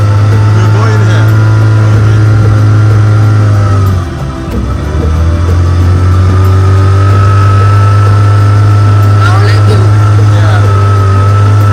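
Motorboat outboard engine droning loud and close on the water at Ganvie floating village in Benin, holding a steady low pitch with a brief dip in revs midway before resuming.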